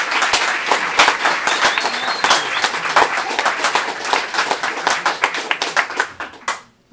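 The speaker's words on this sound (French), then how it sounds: "Je tiens à remercier le Pourquoi pas Café qu'on peut applaudir hyper fort pour leur accueil." A café audience at a table-ronde event claps, a dense patter of many hands carrying on steadily for several seconds before breaking off sharply at the end.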